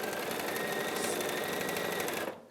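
A sewing machine runs a continuous seam across a quilt block, a fast even whirring hum heard up close, stopping abruptly near the end.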